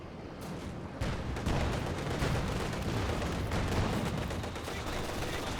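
Gunfire from a Company of Heroes 2 battle, dense and continuous with overlapping shots and heavier blasts, loud and sustained after a quieter first second.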